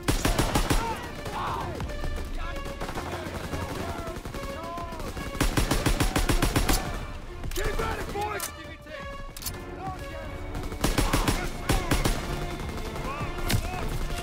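Gunfire from a WW2 video game battle on Hill 493: repeated rapid bursts of automatic fire and scattered shots crackle loudly in dense clusters over a constant din, with voices talking amid the shooting.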